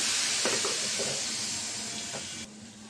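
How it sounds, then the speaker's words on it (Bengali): Water hits hot oil and frying spices for a fish bhuna, giving a loud, continuous sizzling hiss that fades a little near the end. "মশলা কষানোর জন্য পানি দিয়ে দিলাম।"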